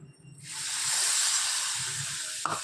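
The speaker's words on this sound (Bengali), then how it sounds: "এবার একটু জল দিয়ে দেবো" Water poured into a hot pan while cooking oats bursts into a loud, sustained hiss that holds steady for about two seconds, with faint bubbling below and a short clink near the end.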